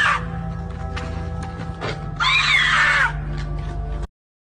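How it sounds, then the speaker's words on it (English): A powerful, drawn-out scream from a chaotic meme rises over a steady low hum and clutter, peaking loud in the middle before the sound cuts out abruptly near the end. "That's a powerful scream."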